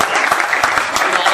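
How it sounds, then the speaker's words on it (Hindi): Audience at an Indore lawyers' association honoring ceremony claps loudly to welcome a guest's father, a dense steady burst of applause with no talk over it. "जोरदार तालियों के साथ स्वागत करें।"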